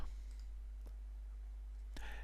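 Computer mouse clicks while saving an entry in a Joomla 3 admin page, with two faint, brief isolated clicks about a second apart over a quiet steady hum.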